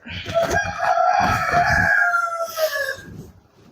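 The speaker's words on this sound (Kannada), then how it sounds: "ಇವಾಗ್ಲೂ ಕೇಳಿಸ್ಕೊಂಡಿರ್ಬೇಕು ನೀವು ಕೋಳಿ ಸೌಂಡ್ ಆಗೋದನ್ನ" A rooster crows loudly and close by beside a rice paddy field along a highway in the evening, one long drawn-out call with a few clucks trailing off at the end.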